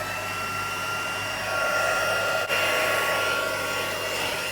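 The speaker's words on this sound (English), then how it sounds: "I'm going to use the heat tool to melt that powder and make it all glossy" A heat embossing tool melts embossing powder on a handmade card, giving a steady, close whooshing blower hum that holds constant throughout and swells slightly midway.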